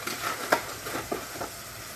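Soft scraping and stirring with a quiet sizzle of rice toasting in hot oil for jambalaya, a few light clinks from a utensil, steady and close.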